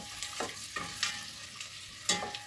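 Onion sizzles low in a pan, with a few brief stirring scrapes at irregular moments; close and fairly quiet, no voices.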